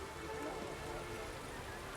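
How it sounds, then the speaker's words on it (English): Steady rain falls in The Witcher 3 video game, a dense, even hiss of drops on surfaces that holds at one level for the whole two seconds, with no other clear sound over it. "It's raining."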